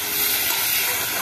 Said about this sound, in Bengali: মায়ের ফুলকপি দিয়ে আলু দিয়ে তরকারি হচ্ছে, এখনো কষা হচ্ছে